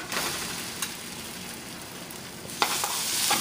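French toast frying in butter in a pan, a steady close sizzle and crackle with a few sharper pops, and no talking.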